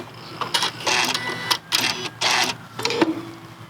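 A sewing machine fitted with a walking foot stitches a quilt, with several bursts of rapid mechanical whirring and clattering separated by short pauses. The bursts are close and moderately loud, and no one speaks.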